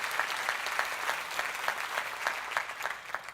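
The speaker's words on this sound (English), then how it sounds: "If we can give him a round of applause." At a United Way keynote event, a fairly quiet round of applause rises from the audience, with a few individual claps standing out in a loose rhythm over a soft wash of hands.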